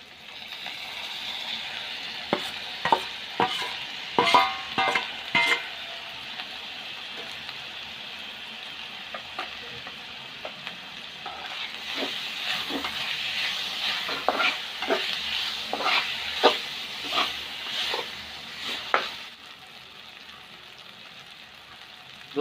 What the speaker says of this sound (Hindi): और अब इसमें ये टमाटर डालेंगे।